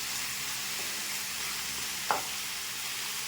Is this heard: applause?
no